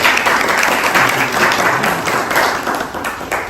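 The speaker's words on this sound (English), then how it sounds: "Give him a big round of applause." An audience at a book launch event claps steadily in sustained applause, dense and close, with a few faint voices mixed into the crowd.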